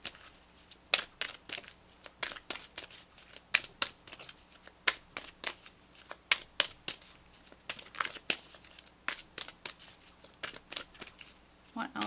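Tarot deck shuffled by hand before a guidance card is pulled, a steady run of crisp papery flicks and slaps close by, repeating for several seconds.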